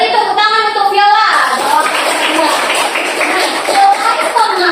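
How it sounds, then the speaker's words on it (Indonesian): Pupils in a classroom clap for a classmate named Viola, brief scattered hand-claps following a teacher's voice and then continuing under children's chatter, close and moderately loud. "Beri tepuk tangan untuk Viola"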